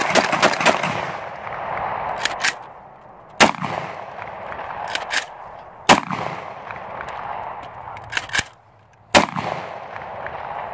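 Guns being fired, with sharp loud reports spaced irregularly, a few close together and others single, over steady background noise.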